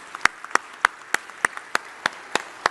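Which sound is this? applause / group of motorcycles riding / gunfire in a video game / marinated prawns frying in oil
applause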